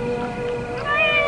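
A cat meows in a drawn-out, wavering, strained yowl, close and fairly loud, alone with no talking over it.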